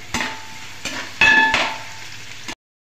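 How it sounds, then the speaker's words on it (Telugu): Thinly cut beans and onions frying in a pan for veg biryani, with a spoon stirring and scraping in several distinct strokes over a soft steady sizzle before it cuts off. "సన్నగా కట్ చేసుకున్న నాలుగు బీన్స్ యాడ్ చేసుకుందాం। ఆనియన్స్ కూడా యాడ్ చేసుకోవాలి। ఇవన్నీ బాగా ఫ్రై చేసుకుందాం।"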